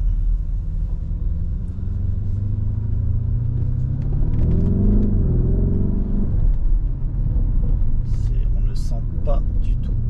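Lamborghini Urus 2018 SUV accelerating from a start, a steady low engine and exhaust rumble that swells and rises in pitch mid-way before settling, heard from inside the vehicle with road noise throughout.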